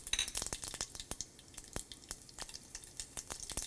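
Mustard seeds pop in hot sesame oil, sharp irregular crackles and snaps scattered across a quiet pan, some close together and others spaced apart.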